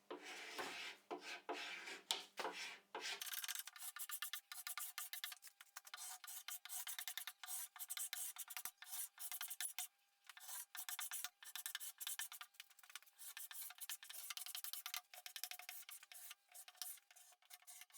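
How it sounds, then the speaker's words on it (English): Sharpened bladed scraper stripping stubborn layers of paint off a wooden sideboard, giving repeated short harsh scraping strokes in quick irregular succession, close and continuous with brief gaps, no speech. "as we got through layers of paint and it was becoming clear it was really stubborn, I went in with a sort of sharpened bladed scraper"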